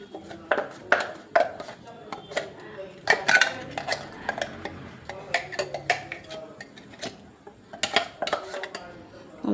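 A spoon knocks and scrapes in a pan as ground masala goes into chicken gravy, with irregular sharp clinks spread through, at moderate loudness.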